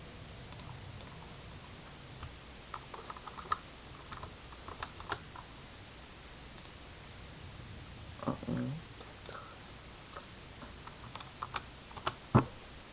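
A computer keyboard typing in a Windows 10 product key during installation: soft, uneven clusters of key clicks up close, with a brief voice in the background.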